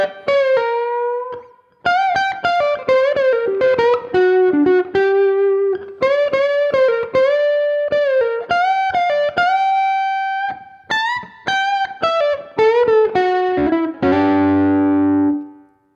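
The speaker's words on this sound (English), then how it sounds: "Now let's engage some overdrive in the tube screamer, which is a really, really cool sound, almost like a clean tone and then a layer of distortion." An electric guitar plays a melodic run through a Tube Screamer overdrive layered on a clean tone, with sustained, slightly gritty notes, then a final strummed chord, heard alone.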